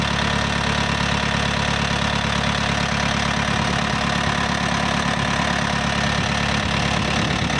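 A Yanmar 45 hp farm tractor engine idles steadily up close, a continuous low rumble with a faint knocking pulse throughout and no talking.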